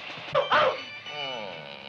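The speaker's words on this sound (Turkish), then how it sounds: "Niye böyle çok havlıyor bu köpek?" A dog being bathed gives a couple of short yelping barks and a whimper, close by, followed by a trailing sound under background voices in an old Turkish film scene.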